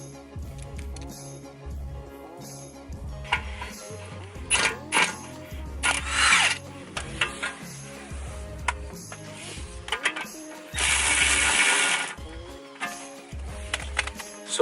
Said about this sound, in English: So once you unbolt the two 16mm bolt, the caliper should release very easily.